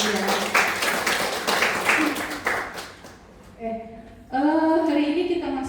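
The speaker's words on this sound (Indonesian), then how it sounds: "Tepuk tangan buat Angel." A class claps for a student named Angel in a nursing lecture at Poltekkes Palangka Raya: a few seconds of scattered hand clapping that fades out, followed by a voice speaking alone.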